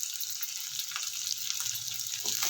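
Cashews, carrot and green chillies frying in oil in a pan for rava upma: a faint, steady crackling sizzle with soft hissing throughout, no voices.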